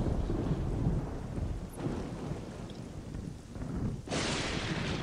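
A thunderstorm in the god game Black and White rumbles loudly and continuously with rain and wind, broken by a sharp crack of thunder near the end.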